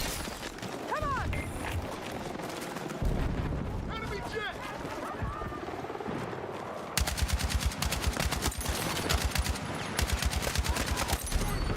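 RPK machine gun in Battlefield 6, with rapid bursts of automatic fire that build into a dense, sustained stream of shots in the second half, mixed with other in-game sounds and a voice talking over it.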